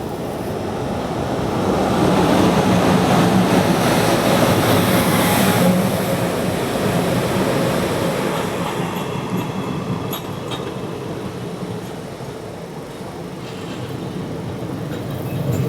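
A Rajya Rani Express rolls on its rails with a loud, continuous rumble and rushing noise that swells in the first half and eases slightly later, with faint rattling clicks near the end.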